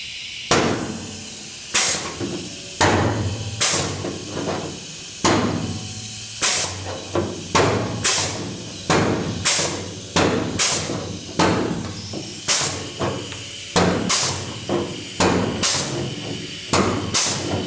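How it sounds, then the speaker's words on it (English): Sheet metal floor pan for a truck restoration being flanged, heard as a long run of sharp, loud metallic clacks close by, spaced roughly one every second, over a low steady hum. "Flanging this section here because this piece is going to lap over and go down"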